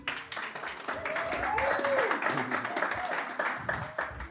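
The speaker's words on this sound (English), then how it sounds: "Give yourselves a round of applause." A round of applause rises from a live show audience, steady clapping sitting underneath a voice talking over it, fairly quiet and continuous.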